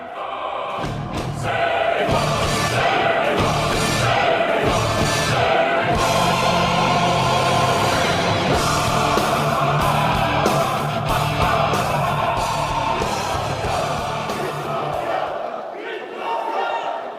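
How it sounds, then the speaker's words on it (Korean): A large rally crowd welcomes a candidate at a political event with sustained loud cheering, yelling and applause that swells and holds for many seconds before briefly dipping at the end. "뜨거운 박수로 맞아주시기 바랍니다"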